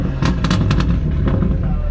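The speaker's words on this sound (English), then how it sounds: "He's flexing his crackle tune on us." A BMW with a crackle exhaust tune fires a quick series of sharp pops and bangs over a steady engine rumble, loud and close.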